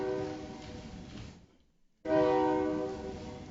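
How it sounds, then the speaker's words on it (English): A passing train sounds its horn near a city council meeting in Lebanon, Oregon, with loud sustained blasts, a brief lull, then another strong blast, heard without talk. "just going to wait for the train."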